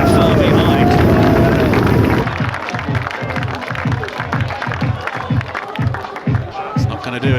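A large crowd at a long drive golf competition roars and cheers loudly, then the noise falls back to a busy murmur with a rhythmic pattern of clapping or thumping while a commentator talks.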